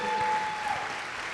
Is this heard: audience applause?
yes